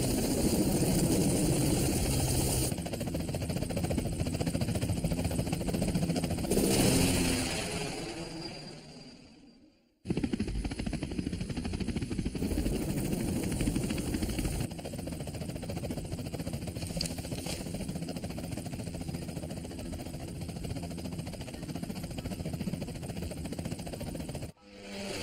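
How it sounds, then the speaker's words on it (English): A helicopter engine drones steadily at moderate volume, cutting out briefly near the middle before resuming its continuous mechanical hum. "Whoa, you got a helicopter?"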